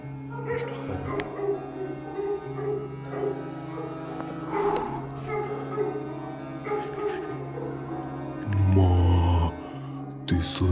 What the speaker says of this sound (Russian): Почему они сейчас гавкают?